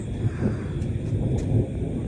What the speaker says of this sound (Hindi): बिजली कैसे गरज रही है,